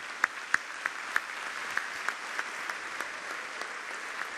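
Audience applause at the official opening of a public event in Rio de Janeiro, steady clapping from a crowd heard at moderate distance, with a few sharper claps standing out, no talk over it.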